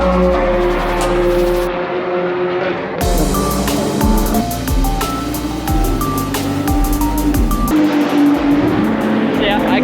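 Cars run on the track at Sonoma Raceway during an advanced coaching day, with loud engine drone and rising and falling pitch as vehicles pass nearby; voices can be heard under the engine noise throughout.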